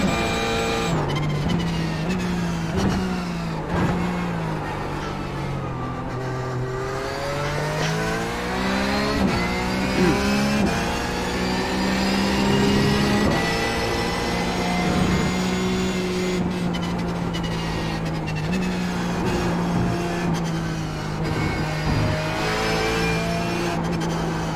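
A Porsche 911 GT3 race car engine in the iRacing simulator howls around the Circuit of the Americas, climbing and dropping through gears in repeated sweeping revs with sharp shift breaks, loud and continuous from the cockpit.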